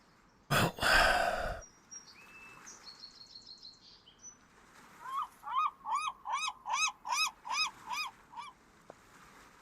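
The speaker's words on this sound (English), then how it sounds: "Oh, you don't like the seagull? It keeps buzzing around." Seagull calls in VRChat: a loud squawk opens, then a short series of fainter cries, followed by a run of about ten rhythmic, repeated gull calls. No one speaks.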